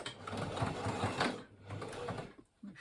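Sewing machine reverse stitching a large ALICE pack shoulder strap, a close rapid mechanical chatter for about a second and a half, a brief pause, then another short burst.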